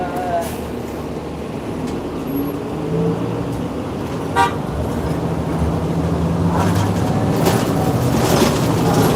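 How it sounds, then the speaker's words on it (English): A loud horn blares repeatedly among the noise of road traffic and a passing bus, with blasts toward the end. "He's got an air horn."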